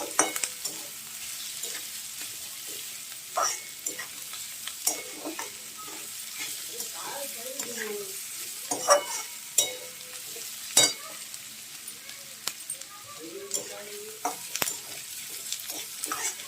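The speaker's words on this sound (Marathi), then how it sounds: "आणि थोडा परतूया" Cabbage, green beans and other vegetables stir-fried for Hakka noodles, with a steady crackling sizzle and repeated scraping stirs of a spatula in the pan, close and continuous.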